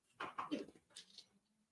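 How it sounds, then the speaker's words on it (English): An excited dog lets out short yips and barks mixed with a high whimper, fairly faint and close, trailing off into a quiet whine. "My dog is absolutely ape shit."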